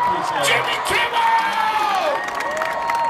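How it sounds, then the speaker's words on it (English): A large crowd of about 700 people cheers, whoops and yells happy birthday at a Los Angeles event, a loud dense wash of voices with rising shouts layered over one another. "I've never had 700 people yell happy birthday at me before."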